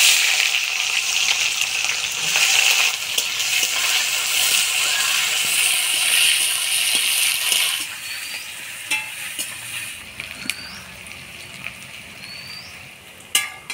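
Chopped onions frying in oil with whole garam masala spices (cinnamon, cloves, cardamom, dried red chillies and bay leaves), a steady close sizzle that thins out in the second half, with occasional scrapes and clinks, no talking.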